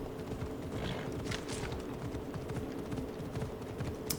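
Horse hooves pound in a fast, continuous clip-clop rhythm as a horse gallops cross-country in the video game Assassin's Creed Odyssey, steady and moderately loud with no voices.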